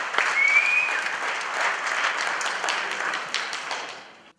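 Audience applauding returning panelists at a live show, a dense, steady burst of clapping that holds for several seconds before tapering off at the end.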